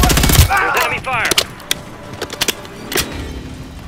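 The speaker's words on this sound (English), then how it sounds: "There's enemy fire!" Gunfire in Call of Duty: Modern Warfare 3 on PS5: a loud burst opens, then scattered shots and thuds crack at irregular intervals, mixed with in-game voices.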